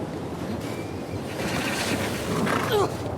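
Gusty wind sweeps through a high climbing area in the video game The Last of Us Part II, a broad whooshing roar that swells louder toward the end.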